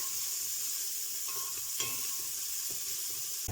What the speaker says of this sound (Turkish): Soğanlarımız kavruldu.